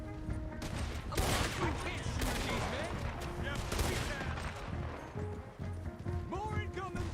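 Gunfire in Red Dead Redemption 2, a dense fusillade of overlapping shots and sharp cracks amid crashing chaos, with voices shouting over the shooting.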